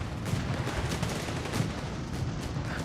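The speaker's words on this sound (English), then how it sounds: "Zooks are opening fire" Bazookas fire in the WWII strategy game Company of Heroes 3, a dense rumbling volley of booming launches and explosions under a steady battlefield din, moderately loud without speech.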